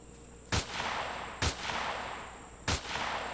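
Three sharp gunshots in the Empyrion video game, spaced roughly a second apart, each a loud crack over a steady background hum, with no talking.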